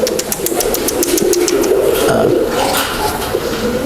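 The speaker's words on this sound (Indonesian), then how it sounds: "Kita lihat nih burungnya belantong. Ini burungnya." A pigeon coos close by in low, throaty bursts that repeat steadily against a constant background of chirps and ambient noise.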